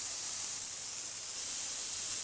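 Mutton seekh kebab laid on a hot, oiled tawa pan over a medium flame, giving a steady, close hiss of sizzling oil that holds evenly throughout with no voices.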